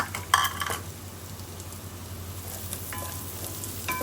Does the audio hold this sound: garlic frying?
yes